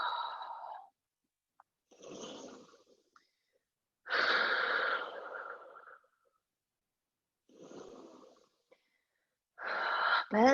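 Slow, deep breaths during a plus-size vinyasa yoga flow, a few long airy inhales and exhales separated by quiet pauses, close and fairly soft with no talking.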